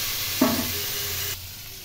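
Potato and carrot fry in a pan for a winter-vegetable spinach curry, a short burst of stirring over a soft, steady sizzle close by that fades quieter near the end.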